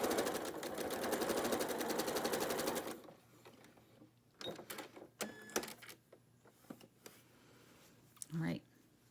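A sewing machine runs fast and steady for about three seconds while stitching quilt block pieces, its rapid needle rhythm close and even, then stops; scattered clicks, rustling and a brief voice follow.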